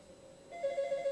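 A telephone rings in the video game Sawcraft, a steady electronic tone that swells after a quiet start and pulses in a fast warbling ring, moderately loud over a faint background hiss.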